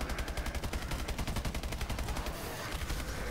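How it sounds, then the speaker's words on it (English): Rapid automatic gunfire rattles in a fast, even rhythm throughout a chaotic firefight in the Advanced Warfare Exo Zombies game, loud and close with a deep low-end rumble underneath. "he shot a rocket at me"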